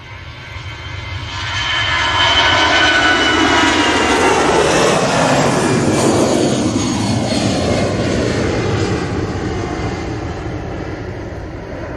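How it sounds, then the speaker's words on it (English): An EasyJet Airbus A319 jet takes off at Manchester Airport, its engine roar building quickly to a loud, sustained rumble with a shifting whine and then easing slightly as it departs. "EasyJet is off to Newquay. It's an A319. Well, this one will rotate relatively late"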